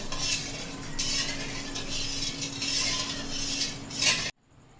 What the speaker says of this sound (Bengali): দুশো গ্রাম চিনি দিয়ে দিচ্ছি পাশে চিনিটাকে মেল্ট হওয়া পর্যন্ত নেড়ে চেড়ে নিচ্ছি